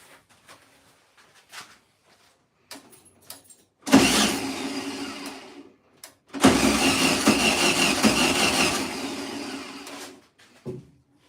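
A 1972 Volkswagen Beetle project car's engine cranks and fires up after two years unused, running roughly in two loud bursts of a few seconds each, with short sputters and clicks before, between and after.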